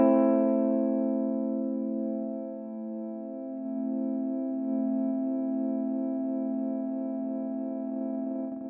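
A single guitar chord hangs frozen in a steady, unchanging drone from a Valeton GP200 freeze effect, sustaining evenly without fading for several seconds.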